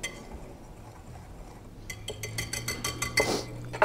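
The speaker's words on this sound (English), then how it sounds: "I'm just going to use a whisk and just mix that together." A whisk rattling quickly against a bowl, mixing salt and baking powder; fast metallic clicks start after a quiet moment and continue to the end.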